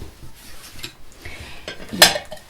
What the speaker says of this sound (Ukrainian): І ми беремо тарілки зараз